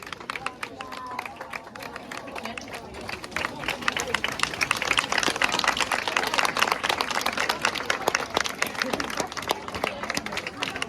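An audience claps steadily for a junior Macedonian folk dance troupe from Resen at a festival in Bar, Montenegro. The dense applause swells slightly after the first few seconds and continues unbroken.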